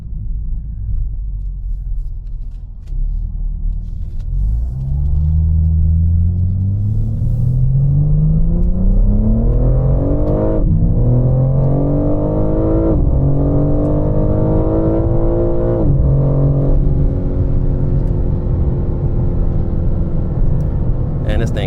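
A BMW M4 fitted with a Valvetronic catback exhaust revs up from idle, its deep engine rising and falling through several loud sustained pulls, recorded close by with a rumbling low end.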